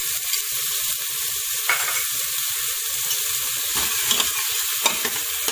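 Onion frying in hot ghee with popping ajwain for a sponge gourd sabzi, a steady sizzle broken by scraping stirs and light clinks, close and without speech.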